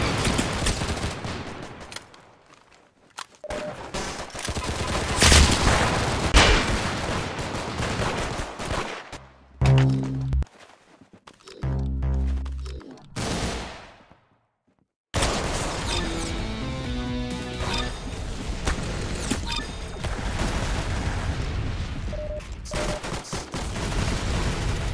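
Rapid bursts of video game gunfire and sharp impacts crackle in dense volleys, broken by brief gaps and a short silence before heavy firing resumes.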